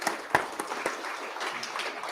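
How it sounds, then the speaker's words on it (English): Applause at a business breakfast, fairly faint, with a few sharper claps standing out against a softer spread of clapping in the room. "Definitely a round of applause."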